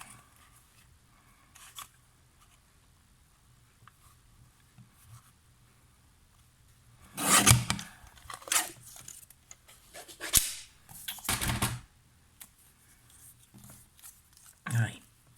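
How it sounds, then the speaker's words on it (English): Scissors cut card for a stamping craft in a few short, crisp snipping bursts separated by quiet pauses, with faint rustling and soft speech between cuts. "Let me just cut it down there. Okay, and then I want to cut it in half."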